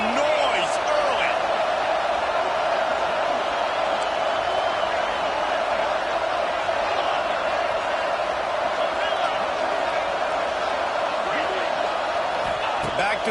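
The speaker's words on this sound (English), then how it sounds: "This crowd bringing the energy and noise early." Loud, steady stadium crowd roar in a college football video game, a dense wall of cheering noise filling the whole stretch without letup, with commentary voices talking over it.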